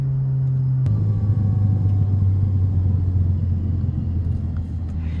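A Kia car's engine drones steadily and close by, with a sharp shift near the one-second mark as the driver drops a gear, after which a deeper, louder rumble carries on to the end.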